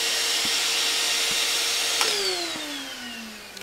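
A vacuum cleaner runs steadily and loudly with a high whine in a workshop, then its motor pitch drops as it starts winding down near the end.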